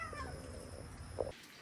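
A big tomcat, one of two semi-feral carport cats being fed wet food at night, gives a faint, short meow close by, followed by a sharper, louder sound at the very end.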